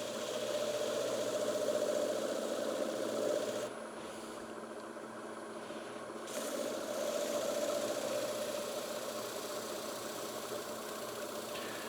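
A wood lathe spins a piece of eastern red cedar at about 700 RPM with a steady mechanical hum, close and constant, dipping briefly quieter midway before resuming; no one speaks.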